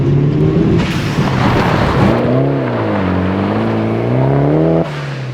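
Mitsubishi Evo 7 driving on a pothole-ridden road, its engine note rising and falling steadily as it pulls through the gears, loud and close with continuous road rumble and no talking.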